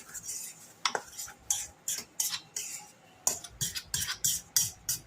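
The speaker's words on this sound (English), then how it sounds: "I'm going to give them a quick stir to start incorporating them." A spoon or whisk stirs dry cake mix ingredients in a bowl, close and clear, with a rapid run of clinking strokes against the bowl that pause briefly, then resume in quick bursts.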